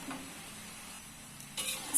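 Kue bawang crackers frying in hot oil, stirred occasionally: a steady soft sizzle runs throughout, with a brief louder scrape and bubbling burst near the end, no voices.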